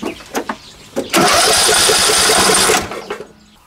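Small engine cranked over during a compression test, a steady fast whirring drone lasting about a second and a half, preceded and followed by a few clicks and knocks.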